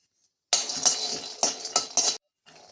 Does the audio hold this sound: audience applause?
no